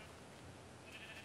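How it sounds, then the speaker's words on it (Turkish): Sheep bleating in a Minecraft game session, a short nasal bleat standing out briefly over steady background game noise. "Biz koyun kesiyoruz."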